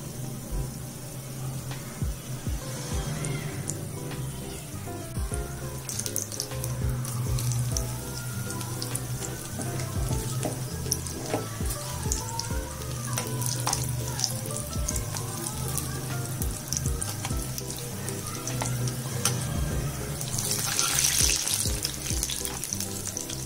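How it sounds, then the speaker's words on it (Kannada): Chicken bread rolls frying in hot oil over a medium flame, with a steady, dense sizzle and crackle that continues throughout. "ಇದೇ ಎಣ್ಣೆಯಲ್ಲಿ ಕರ್ಕೋಬೇಕು"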